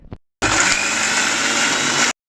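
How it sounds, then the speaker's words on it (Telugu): A mixie grinding urad dal chutney with water added: one loud, steady whirring motor burst of nearly two seconds that starts and stops abruptly, after a brief clatter. "ఇలా పౌడర్ లాగా అయిన తర్వాత కొంచెం వాటర్ యాడ్ చేసి మళ్ళీ మిక్సీ పట్టాలి"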